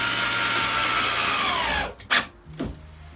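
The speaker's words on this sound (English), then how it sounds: "what the countersink does is creates a hole around the top that's bigger than the screw head" Power drill with a countersink bit boring into a wooden subfloor inside a cargo van, a steady close whir running for about two seconds before cutting off, then a couple of short bursts and knocks.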